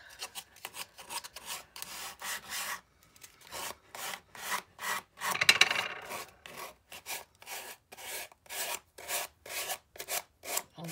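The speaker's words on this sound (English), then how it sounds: "I'm going to grab my sandpaper. And just kind of sand around the edges." Sandpaper rubs along the edges of a thick workpiece in short, rhythmic back-and-forth strokes, each a dry rasp, close up with brief pauses between bursts.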